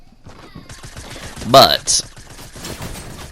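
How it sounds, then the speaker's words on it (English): Tactical shotgun fire in the Fortnite video game, one loud, sharp blast followed by a second shorter burst amid busy in-game noise, with someone talking over the action. "when I fire it at an optimal range, I will typically excel at using the tactical shotgun"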